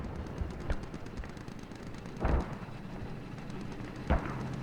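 Distant gunfire in the video game Squad on the Al Basrah map, a few sharp reports at irregular intervals over a steady battlefield rumble, with no talking.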